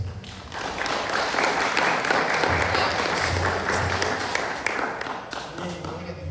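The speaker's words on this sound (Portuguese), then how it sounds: "Você pode dar uma salva de palmas para o Senhor?" A church congregation claps in praise to the Lord during a sermon, a full, sustained wave of applause filling the hall for several seconds, with faint voices underneath.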